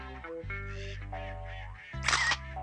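A cartoon camera shutter clicks once, a short bright snap cutting through a sustained low musical tone and background score in an animated scene.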